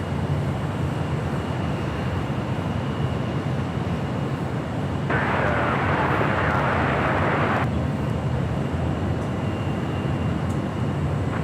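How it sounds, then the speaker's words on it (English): Southwest Airlines Boeing 737-700 in older livery at LAX, a steady loud jet engine roar throughout with a brighter surge of broadband noise midway, heard from a plane-spotting position with no talk. "These older livery 737-700s kind of becoming rare with Southwest."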